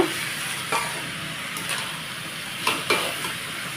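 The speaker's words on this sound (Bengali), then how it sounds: "চালে ডালে ভালোভাবে মিশিয়ে ফোড়নে দিয়ে এখন ভালোভাবে একটু কষিয়ে নেব" Rice and lentils fry in spiced tempering oil for khichuri, giving a steady loud sizzle with a few sharp scraping stirs and clinks of a spoon against the pot.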